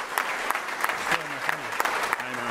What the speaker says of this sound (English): why don't we just give him a good applause to everyone that participated in the OpenSock